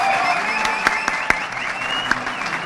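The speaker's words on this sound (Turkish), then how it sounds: "Güçlü alkışlarınızı sahneye davet, davet ediyoruz." Steady audience applause at a university sports science faculty graduation ceremony, dense clapping with a few sharper individual claps popping out near the listener.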